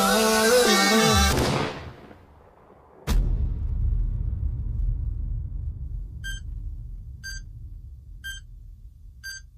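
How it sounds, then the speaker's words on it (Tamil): Thunder breaks with a sudden sharp crack after music fades out, then rumbles on low and steady; a few faint, evenly spaced beeps sound near the end. "வெறும் இடி சத்தமும் மின்னல் சத்தமும் மட்டும்தான் கேக்குது"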